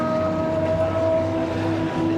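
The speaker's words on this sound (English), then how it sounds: "And there goes the Aston Vulcan" A steady engine drone with sustained harmonic tones from an Aston Martin Vulcan race car at Silverstone, loud and continuous with no talk, resembling a passing racer more than a clear doppler sweep.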